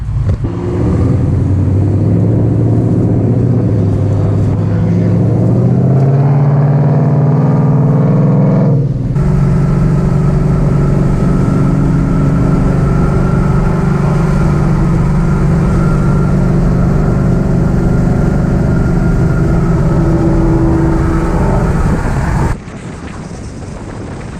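Car engines roar and rev steadily in the distance at a car meet with wind buffeting the microphone, one engine note rising then shifting as cars accelerate away.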